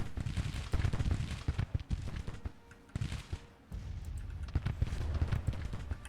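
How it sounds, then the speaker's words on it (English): Distant musket and cannon fire in the Civil War strategy game Grand Tactician: The Civil War rumbles as a dense, continuous crackle of overlapping shots, fairly faint and steady. "This is the shooting starting"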